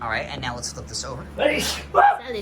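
A single loud sneeze bursts out among friends talking over a Dead by Daylight board game expansion unboxing, with people chatting before and after it.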